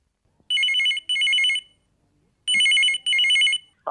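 A telephone rings twice in classic double bursts on a radio call-in show, trilling loudly and clearly with short silences between the pairs.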